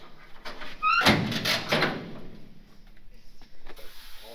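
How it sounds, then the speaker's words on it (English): Door of a classic truck on an old ranch opens with a creak, then shuts with a solid metallic slam, followed by quieter rattling and mechanism clicks. "your favorite thing about doors opening and shutting"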